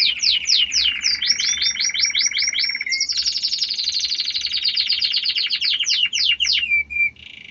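Pet canaries chirp and trill nearby, quick repeated rising notes in rapid bursts, with a long continuous rolling song and a few pauses near the end.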